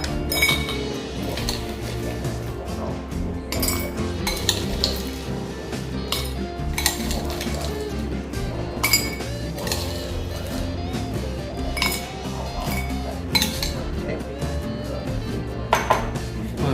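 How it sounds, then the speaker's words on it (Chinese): Ice cubes clink and clatter into a glass while iced dalgona coffee is being made, a steady run of bright, close knocks and chinks over a busy kitchen background, with no talking. "放冰块。"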